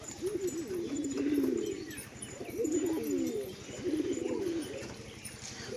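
A Rampuri pigeon coos in three drawn-out, rolling phrases, close and fairly loud, with soft ambient noise between calls and no one talking.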